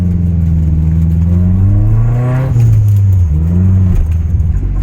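A Nissan 240SX engine revs while driving, its loud, close drone climbing in pitch, dropping at a gear change, then rising again and falling off at the end.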